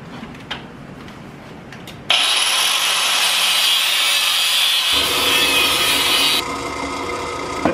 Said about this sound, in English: I'm going to go ahead and cut us out a nice little square of this steel